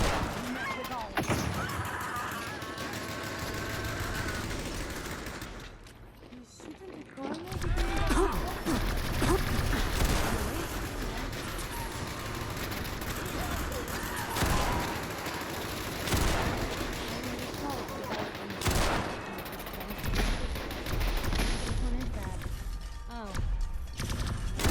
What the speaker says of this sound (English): Some ballistic rounds going down.